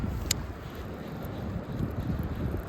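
Breezy wind at a pond on an overcast day, a steady low rumble of gusts buffeting the microphone with no voices.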